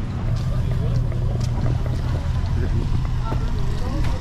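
A small motorboat's motor drones low and steady beneath wind buffeting and splashing water, with faint voices mixed in, on a crossing from Iloilo to Guimaras, Philippines.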